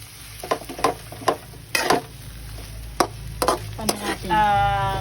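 Sardines cook in a pan with a low sizzle under repeated scraping and clinking stirring strokes at irregular intervals, close by, and a brief whistling tone near the end.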